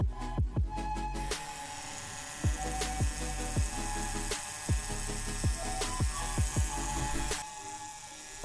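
Electric nail drill whirring with its speed being adjusted up and down, a steady high mechanical whine broken by repeated sharp clicks and bumps from handling.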